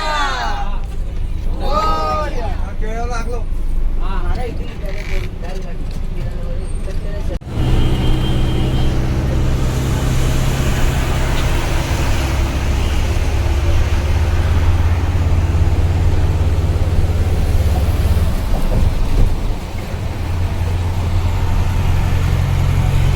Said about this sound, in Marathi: चला गाडी निघालेली आहे.